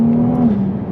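Ferrari 296 GTB engine giving a brief, loud, close rev with a strong tonal drone that dips slightly as it settles.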